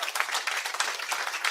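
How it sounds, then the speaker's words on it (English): An audience at a live talk show bursts into applause, a dense, fairly loud wash of many hands clapping steadily with slight swells throughout. "I got to be fair to all of you that are clapping"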